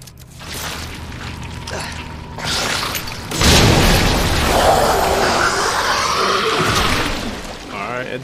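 Grenade explosion in Resident Evil 2 Remake, a loud, heavy boom that swells midway and rumbles on for several seconds with a splashy, watery tail.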